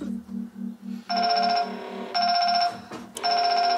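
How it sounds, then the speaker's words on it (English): A phone rings in three bursts with short gaps, loud and close, after a low repeating tone at the start. "your phone is ringing."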